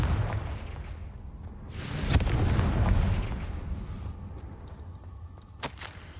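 A Confringo fire spell bursts in Hogwarts Legacy, a deep booming blast swelling and rumbling for a few seconds before fading, with a sharp crack near the start and another near the end.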